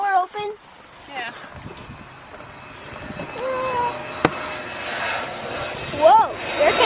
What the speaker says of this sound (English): Air Canada. That is. 717?